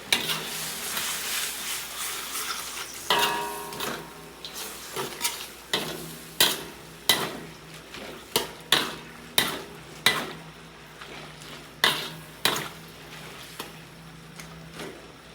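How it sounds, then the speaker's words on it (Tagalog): Beef intestine adobo cooking in a pan, stirred with a utensil that scrapes and knocks against the metal in repeated sharp clacks about once a second, over a continuous soft sizzle; no talking. "haluin na natin to"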